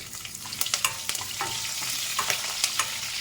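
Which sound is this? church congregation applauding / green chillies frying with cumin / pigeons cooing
green chillies frying with cumin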